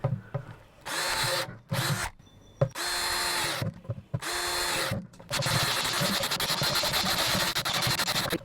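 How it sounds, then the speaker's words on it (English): A power drill whines through several short bursts with pauses, boring holes in a plastic bucket, then runs in one long continuous stretch, loud and close. "I'll go ahead and drill like lots and lots of little holes."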